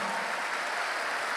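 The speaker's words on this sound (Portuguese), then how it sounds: "Vamos aplaudir mais ao nome do Senhor." A church congregation applauds the name of the Lord during a service, a brief burst of dense, even clapping heard alone.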